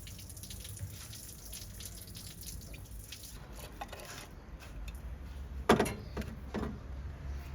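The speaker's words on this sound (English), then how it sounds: "so expect to have more antifreeze coming out" Antifreeze drains and drips from the water pump of a Nissan Terrano TD27 diesel engine, a faint trickle and patter with a few louder splashes near the end.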